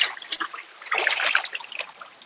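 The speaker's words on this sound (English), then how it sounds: "Next step is to drag the bag horizontally in long sweeping motions to force water inside of the water compartment." An AquaBlast water bag dragged horizontally in long sweeping motions, giving close, irregular splashing and sloshing of water over a couple of seconds.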